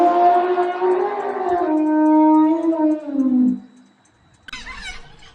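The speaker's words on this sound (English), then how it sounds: "elephant," A wild elephant trumpets in a long, loud, brassy cry that wavers and slides downward for about three and a half seconds, followed after a short pause by a rougher, noisier burst.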